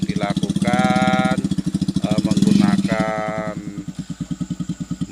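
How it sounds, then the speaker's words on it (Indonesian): A three-wheeled Viar motorcycle engine chugs loudly and close in rapid, regular pulses at an oil palm nursery where large polybags are being moved. A voice speaks briefly over the running engine. "motor Viarni ya, atau motor roda 3"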